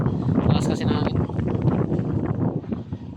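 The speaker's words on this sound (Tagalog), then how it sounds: "Lakas ng hangin sa labas." Strong northerly wind blowing outdoors near the shore where a fishing boat sits, roaring steadily and buffeting the microphone, with a voice speaking over it.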